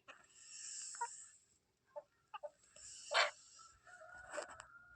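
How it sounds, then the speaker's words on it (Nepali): Chickens and turkeys in a coop give scattered clucks and short squawking calls, a few sharp louder bursts among quieter murmurs, fairly close with pauses between. "यहाँभित्र चाहिँ कुखुरा टर्कीहरू छ"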